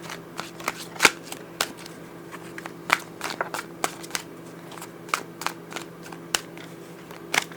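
Tarot cards being shuffled in a series of sharp, crisp riffles and snaps, irregular and close, with a faint steady hum underneath.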